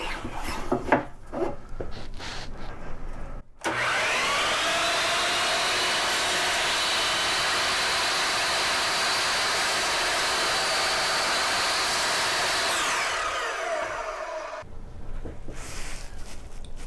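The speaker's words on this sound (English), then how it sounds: "I'm going to cut up some MDF, which produces a lot of fine dust." A miter saw cutting MDF with no vacuum hose attached, loud and sustained: a harsh, high whine lasting about ten seconds that starts abruptly and winds down at the end, with quieter workshop handling before and after.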